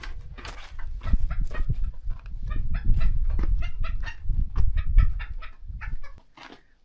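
Chickens cluck steadily and close by in a greenhouse, a busy run of short clucks from a few birds, with rustling underneath.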